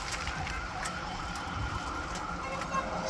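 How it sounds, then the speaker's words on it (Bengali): Ambulance siren on a road near a school, wailing steadily at moderate distance over rumbling traffic and engine noise, with no speech. "সামনে একটা অ্যাম্বুলেন্স আছে আমাদের। অ্যাম্বুলেন্সটা আসতেছে।"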